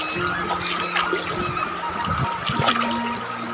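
River water flowing across a village path near rice paddies, a close, continuous trickling and gurgling wash with soft splashes and low rumble throughout.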